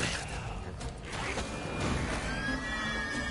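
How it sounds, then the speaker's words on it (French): A horse whinnies amid creaking, mechanical game ambience in The Witcher 3: Blood and Wine, with a thin high tone rising near the end; no talking. "Sérieusement, Ablette?"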